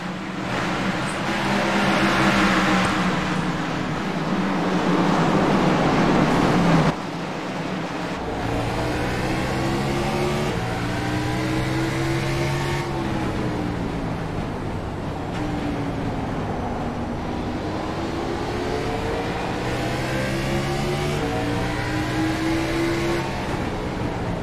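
Pack of simulated stock cars in iRacing at Martinsville roaring on a restart, a loud continuous engine drone with rising and falling rev sweeps as several cars accelerate together.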